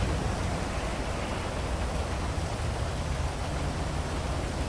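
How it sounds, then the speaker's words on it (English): Steady rain falling in Grand Theft Auto 5 on a city street corner in Little Seoul, a continuous dense hiss of rainfall that stays even and fairly loud throughout with no voices. "The rain has started."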